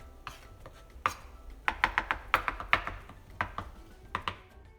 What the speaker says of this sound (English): right now I'm just simply chopping the flesh up